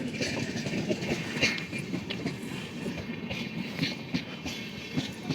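A train passes close by near Kankavli on the Konkan route to Goa, with steady rumbling, rhythmic clickety-clack of wheels on rail joints and rattling wagons sustained throughout.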